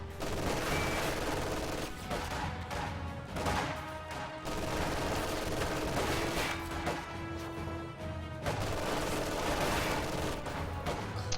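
MG42 machine gun fire in a World War II strategy video game, a dense, continuous battle din of bursts and crashes that stays loud throughout with little pause.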